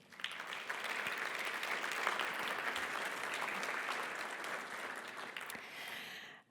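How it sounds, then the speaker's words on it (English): An audience at a keynote plenary session of a RAIN technology conference applauds the sponsors, dense steady clapping for about six seconds before fading and cutting off. "Please give our sponsors a round of applause."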